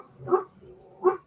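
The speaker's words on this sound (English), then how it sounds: "My dog's having a nightmare." A dog whimpering and yelping softly while having a nightmare in its sleep, two short muffled bursts about a second apart, close by and fairly quiet, with no talking.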